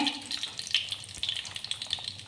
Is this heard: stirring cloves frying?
yes